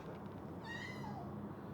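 A person's voice imitates a cat with one short, rising-then-falling meow over a steady background hiss.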